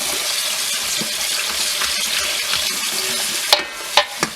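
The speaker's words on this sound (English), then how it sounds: "I like to put cold water on here and just kind of stop the cooking process." Cold tap water pours steadily over freshly cooked pasta in a colander, a bright continuous hiss and splash, with a few sharp clanks of metal near the end.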